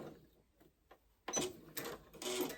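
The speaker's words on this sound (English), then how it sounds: "just sew to your next line here" A sewing machine stitches a garment seam, sewing a New Look N6704 pattern. It starts faint and quiet, then runs in two close bursts of rapid mechanical whirring.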